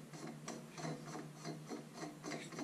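A 3D printed baffle slides onto an Air Venturi Avenger air rifle barrel, giving a close, steady series of rubbing, ratcheting scrapes repeated at a regular pace with no voices.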